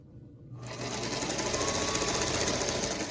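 A sewing machine stitches two quilt squares together, starting after a brief quiet moment with a fast, steady mechanical chatter that continues close and fairly loud throughout.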